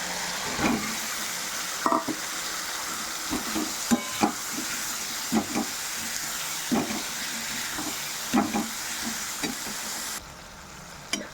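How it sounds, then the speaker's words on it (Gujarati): Steady sizzling of cauliflower frying in spice masala in a pan, with periodic scraping stirs and clinks across the whole stretch; no voices. "આ રીતે મસાલો થઈ જાય એટલે આપણે ફુલાવર નાખીશું."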